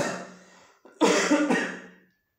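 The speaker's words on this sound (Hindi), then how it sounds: "थोड़ा खांसी है" A person coughs and clears their throat close up, a short muffled cough followed by a harsher burst that trails off.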